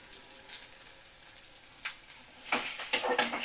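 Chopped onion and green chili frying in hot oil, with faint scattered crackles that swell into a louder, busier sizzle near the end.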